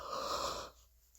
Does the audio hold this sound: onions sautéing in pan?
no